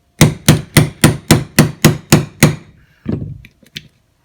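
Hammer taps driving a roll pin into the fire control unit of an XDS series pistol, nine evenly spaced sharp metallic knocks followed by a few lighter, irregular taps, close and clear with no talk.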